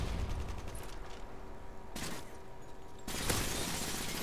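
In the Modern Warfare 3 video game, gunfire comes in rapid bursts of sharp, loud shots, broken by a brief lull before a heavier, denser volley near the end.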